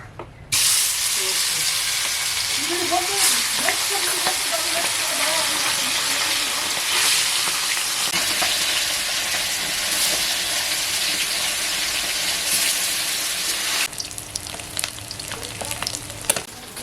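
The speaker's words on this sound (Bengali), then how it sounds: "তেল গরম হয়ে গেছে, মাছগুলো দিয়ে দেবো।" Small tilapia fish dropped into hot oil in a pan, setting off a loud, dense sizzle that holds steady for most of the stretch, then turns sparser and crackling near the end.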